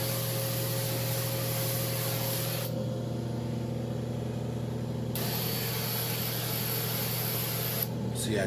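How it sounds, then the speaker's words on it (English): Carpet pre-spray misted lightly over a urine-stained rug, a steady continuous hiss that halts for a couple of seconds and resumes over a constant machine hum. "I'm just gonna give it a light spray on top"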